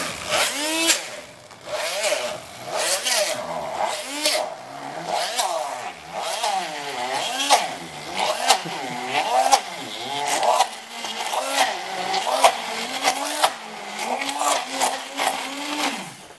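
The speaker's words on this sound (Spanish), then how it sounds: "ahora es batir." Blender whipping banana and milk, a continuous motor whine that rises and falls in repeated surges as the mixture churns, close and loud with no speech.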